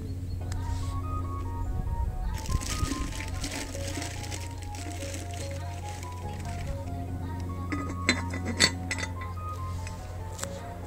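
Sporadic light clinks of porcelain dishes against each other as they are unpacked, over a steady low hum, with a cluster of sharper knocks near the end.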